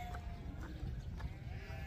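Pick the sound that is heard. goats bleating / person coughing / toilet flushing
goats bleating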